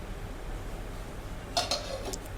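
Metal lid set onto a pot of boiling water in a home kitchen, two quick clinks close together over a steady low background hiss.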